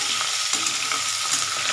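A pan of Bengali potato curry, aloo dum with tomato and peas, is stirred slowly over a raised flame, giving a soft continuous sizzle broken by a few spoon scrapes and taps, near and unvoiced.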